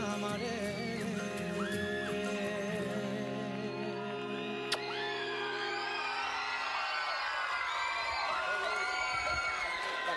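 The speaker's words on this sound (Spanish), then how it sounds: "Fuerte aplauso a los músicos también." A live concert audience at a Teletón USA 2013 televised charity event cheers and whoops over the last sustained musical notes. The crowd noise swells as the music ends, with shouts rising through a loud, continuous roar.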